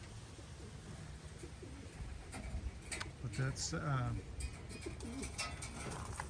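Racing pigeons coo softly in the background at the end of a racing season, with a few short low calls and faint chirps beneath someone talking close by.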